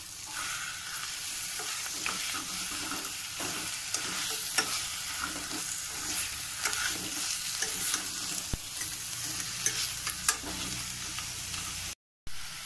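Mutton being stirred and mixed with paste in a hot pan, a steady moderate sizzle with repeated scraping and stirring strokes, close by, without talk and ending with a brief cut to silence.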